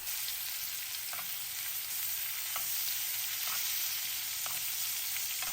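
Chicken searing in a hot skillet with butter, a continuous bright sizzle and crackle heard up close, with a few faint taps or scrapes at irregular intervals and no talking.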